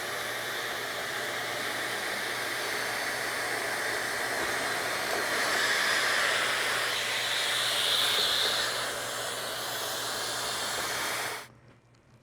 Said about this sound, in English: So I've cut these 2 holes in the face of the top piece